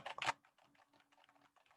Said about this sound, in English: let's do a little keyboard test, see how well it picks up or how badly it picks up the sounds